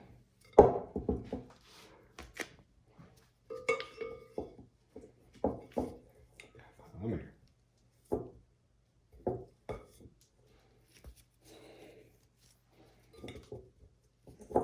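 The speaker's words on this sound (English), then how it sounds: "I'm trying to take this big old ball and separate it from the bowl" A large ball of frozen cookie dough is worked loose from a bowl, with sparse, quiet clunks, knocks and scrapes of dough and utensil against the bowl, separated by silent pauses.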